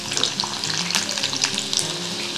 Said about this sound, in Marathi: आता हा लसूण छान सोनेरी रंगावर आपण परतून घेणार आहे